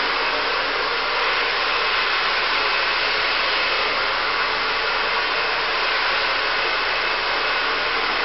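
A handheld hair dryer runs on its cool shot setting with a steady, loud, even airflow hiss that never changes for the whole stretch.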